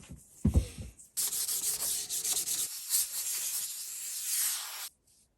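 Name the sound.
sanding a wooden wand between coats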